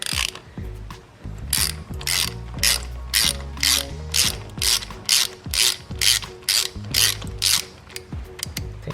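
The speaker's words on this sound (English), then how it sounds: "Using a bunch of extensions with a 5/8 spark plug socket." A ratchet on long extensions with a 5/8 spark plug socket works a spark plug loose in a 2.0T Audi A4 B8.5, giving a steady series of crisp, close clicking bursts in a regular back-and-forth rhythm.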